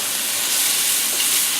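Mushrooms fry in olive oil in a pan for chicken Marsala, giving a loud, close, continuous hiss and sizzle that stays constant throughout.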